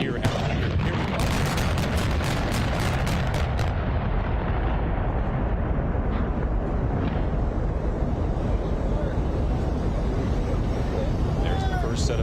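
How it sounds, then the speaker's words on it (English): Controlled demolition of the disused, long-neglected Silverdome stadium: a dense rolling series of heavy blasts and rumbling booms fills the opening seconds, then a sustained low roar continues while a commentator speaks over it. "There's the first set of explosions."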